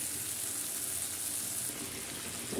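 Liquid poured into a pan of small-fish curry with tomato and peas, a steady close gushing pour running for a couple of seconds without any voices.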